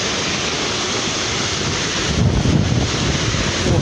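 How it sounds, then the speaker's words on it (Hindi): Water rushes hard at Chamb waterfall, a loud, constant roar with wind buffeting the microphone and no talk. "इधर बहुत तेज़ पानी आ रहा है"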